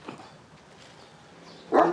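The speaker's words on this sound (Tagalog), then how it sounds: "Isang tahol, no?" A single sharp bark from a Kangal dog near the end, after a stretch of quiet background noise.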